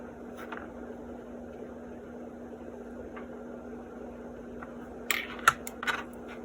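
A 1984 Dictaphone 4250 under disassembly gives a sudden spring pop, sharp snapping clicks late on after quiet, sparse handling ticks, close and otherwise still.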